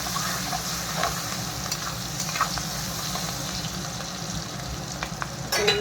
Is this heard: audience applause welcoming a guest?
no